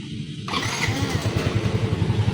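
A Yamaha Mio i 125 scooter, just repaired with new starter motor carbon brushes, starts with a quick crank and settles into a close, steady idle with a regular low putter.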